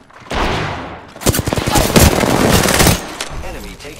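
Rapid automatic gunfire in the Apex Legends battle royale game, a dense burst of shots lasting about two seconds close up, with a voice speaking around it.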